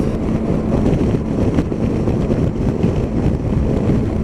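Steady, loud wind buffeting on a Yamaha Tracer 9 motorcycle at speed, a continuous low roar that fills the whole stretch with no voices.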